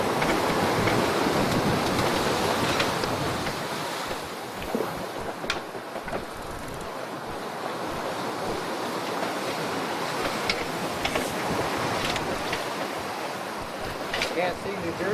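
Ocean waves and wind in the middle of the Atlantic, a continuous rushing wash of surf and gusting air, with occasional faint sounds over the steady roar.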